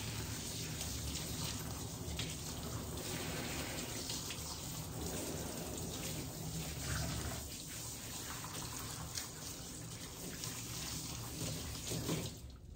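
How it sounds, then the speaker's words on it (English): Tap water runs steadily and faintly during a doodle-type dog's bath, a continuous soft splashing hiss with no pauses. "For Noah's bath, we're going to be using iGroom prebiotic shampoo and conditioner"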